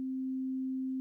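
VCV Rack oscillator module putting out a clean sine wave, a single pure steady tone that starts and stops abruptly, alone and at moderate level.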